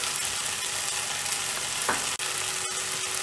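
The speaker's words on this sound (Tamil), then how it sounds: "ஒரு 2 மினிட்ஸ் ஃப்ரை பண்ணணும்" Spices fry in a hot pan for Tamil mochai kara kulambu made with chilli powder, pepper powder and salt, giving a steady, even sizzle throughout with a brief stirring scrape, and no voices.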